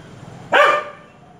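A single dog bark, loud and close, lands in one short burst amid an otherwise quiet indoor scene with no voices.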